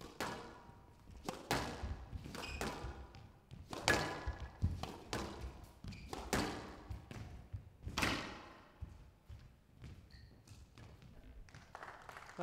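A squash ball is struck repeatedly in a professional women's match at the 2015 Qatar Classic, with sharp, loud cracks and thuds from racket and walls in an irregular rally rhythm, close and clear, with no talk over them.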